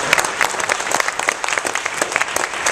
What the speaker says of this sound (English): we need to really give ourselves a loud round of applause